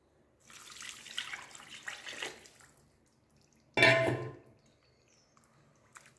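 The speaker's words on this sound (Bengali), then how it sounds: "বাটিটা ধুয়ে আমি একটু জল দিয়ে দিই" Running tap water rinses a bowl for a couple of seconds, then after a short pause a brief splash of water is poured into semolina batter for idli, close and clear with no talking.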